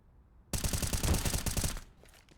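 AK rifle fired in a Counter-Strike match, a rapid automatic burst of about a dozen sharp, close shots lasting over a second, followed by a faint trailing echo.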